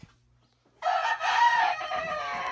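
A gallo búlico gamecock on a California farm lets out one loud, close crow after a brief quiet, the call breaking and trailing off in a long drawn tail.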